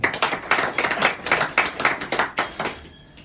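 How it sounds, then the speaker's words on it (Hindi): An audience at a mindset training session in Ahmedabad claps in a quick, fairly loud rhythmic burst of distinct hand strikes, tapering off near the end. "तालियां बजनी चाहिए।"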